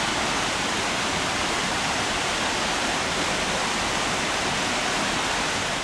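Silty, murky stream water flowing down from a mountain makes a steady, dense rushing hiss with no breaks, close and fairly loud throughout.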